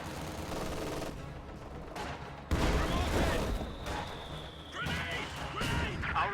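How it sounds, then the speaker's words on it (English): An MG-42 machine gun in a WWII strategy video game rattles in rapid bursts alongside other gunfire and crashing impacts, loud and layered over the game's battle din. "MG-42 is going to set up facing right to fire on those guards"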